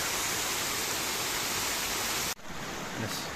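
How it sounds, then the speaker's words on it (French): A waterfall on the Cascade de l'Arbre de la Biche in Cantal, spilling from small rock pools: a dense, steady rushing roar up close that cuts out abruptly near the end, then returns more faintly. "On est sur les hauteurs de la cascade de l'arbre de la biche, avec les petites piscines, et ensuite l'eau qui se déverse"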